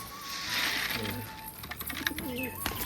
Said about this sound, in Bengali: পায়রাগুলোকে এখন খাবার দেবো